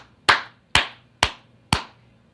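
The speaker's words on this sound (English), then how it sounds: "a great big clap like that is great" Four loud, sharp hand claps, evenly spaced about half a second apart, each a crisp close smack with a quick decay, standing alone over a faint low hum.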